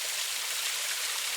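Fast river water rushes through a stream near waterfalls, a constant hissing, bright flow, moderately loud and unbroken.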